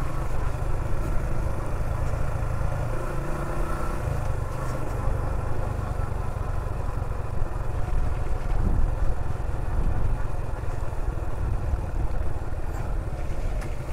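A steady engine drone runs throughout from a motorbike moving slowly in rain on a wet road between Bandarban and Thanchi, with constant rumbling noise and no clear voices.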